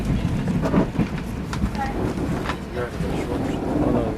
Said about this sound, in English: There's one of the new trains.